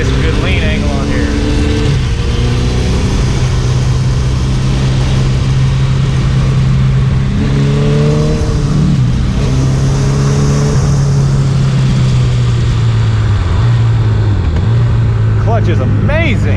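A 2001 Suzuki Hayabusa sport motorcycle engine drones steadily at high revs while riding twisty roads, pitch rising and dipping with gear changes, loud and close with wind rush.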